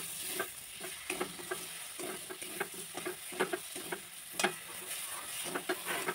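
Food frying quietly in a pan while being stirred, with a low hiss under repeated light ticks and scrapes of the utensil against the pan.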